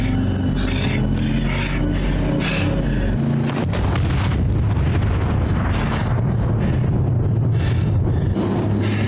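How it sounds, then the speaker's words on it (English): A big explosion from a zombie drama series episode goes off mid-scene, a deep rumbling boom that swells and then breaks into a long crackling roar of debris and fire, loud and sustained. "now they're gonna think that that explosion destroyed all of it"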